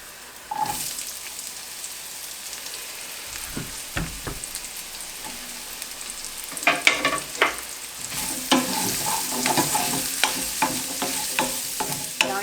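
Garlic and onion fry in a pan, a soft sizzle under repeated close stirring and scraping that grows busier and louder toward the end, with no talking.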